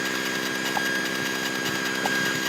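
A small airplane engine drones steadily during a cross-country flight, a loud continuous hum with a constant pitch, heard from inside the cockpit with no talking.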